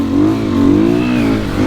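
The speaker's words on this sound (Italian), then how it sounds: "Il motore non ha lo scarico della Factory, quindi un po' più silenzioso" A Sherco enduro motorcycle, one of the 125 and 300 two-stroke or 300 four-stroke 2020 models, running without the Factory exhaust, accelerates close by, its engine note rising and falling in loud revving pulls.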